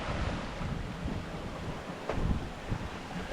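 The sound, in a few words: wind at sea on a sailboat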